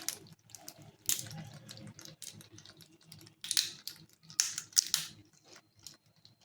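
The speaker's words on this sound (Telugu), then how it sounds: "ఇలాగా వాటర్ కింద పెట్టి నీట్గా కడగండి." Crab pieces rinsed under a running kitchen tap, with uneven splashing bursts and gurgling water close up, interrupted by brief handling clatter, no talk.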